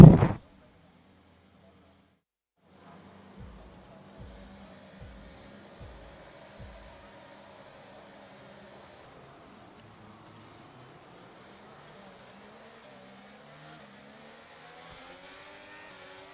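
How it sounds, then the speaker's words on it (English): Formula 1 cars launch from the grid at the start of a race in F1 23 at the Austrian circuit, a faint engine rise swelling slowly after a short burst and a pause, with a few low thumps early on. "Let's try and get a good launch as the race starts"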